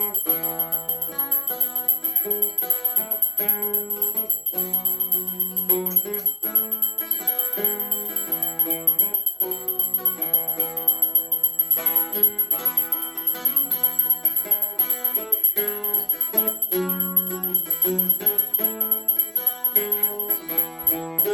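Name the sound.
small bell accompanying a Romanian carol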